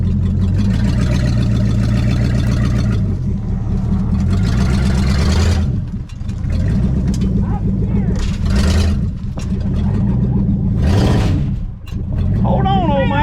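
A 1959 Ford Galaxie Fairlane 500 with a 352 V8, started for the first time in years, idles roughly and revs up in loud repeated surges, close by, with people talking over the engine.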